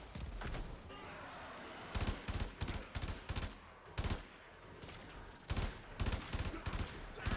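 Bursts of gunfire in the Warframe video game, with repeated loud volleys of shots fired in quick clusters over a steady background of game noise.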